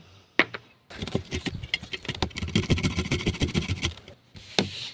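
Quick, rough rhythmic scraping of a garlic head rubbed against a small grater, close up, with a few clicks before and after.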